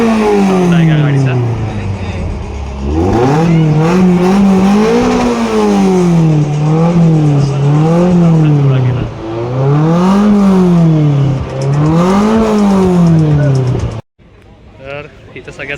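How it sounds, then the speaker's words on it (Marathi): A vintage car's engine runs at a heritage auto show in Thane, idling with a loud, close rumble that rises and falls through repeated revs before cutting off abruptly near the end, with talk over it. "गाडी चालू केलेली आहे, तीच आहे जी तुम्हाला ऐकायची होती. साऊंड आहे का गाडीचा."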